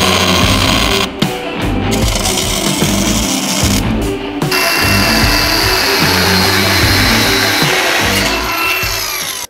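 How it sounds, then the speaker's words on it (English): Power drill boring a hole through a metal ball, a loud, continuous grinding whine broken by two brief pauses, close up with harsh metallic rasp throughout. "I'm drilling a hole through this ball"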